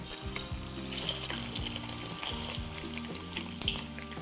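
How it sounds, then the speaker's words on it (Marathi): Vadas frying in hot oil in a pan, a steady bubbling sizzle with crackling pops throughout, close and alone with no voices. "आता हे वडे सोडूयात तेलामध्ये"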